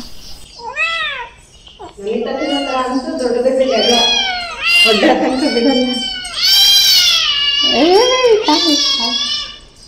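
A cat meows repeatedly and loudly nearby, drawn-out, wailing cries in quick succession with brief pauses between, close to the listener.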